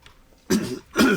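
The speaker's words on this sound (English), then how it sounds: "sorry, you'll have to forgive me, I've got a terrible cough." Two harsh coughs from a nearby voice, the first sharp and the second stronger and more drawn out, heard alone with no talking.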